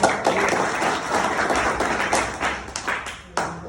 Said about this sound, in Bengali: লিমকে আমাদের বাংলাদেশি কমিউনিটির পক্ষ থেকে জোরে করে তালি হবে।